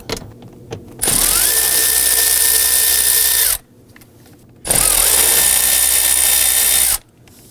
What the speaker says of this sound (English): There's going to be two T25 Torx bit screws, one here, one here. You want to loosen and remove those.